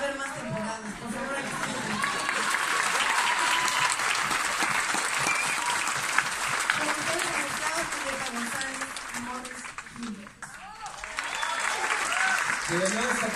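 A theatre audience in Mexico applauds a landmark performance of Les Misérables, sustained dense clapping and cheering that swells, briefly dips, then resumes loudly.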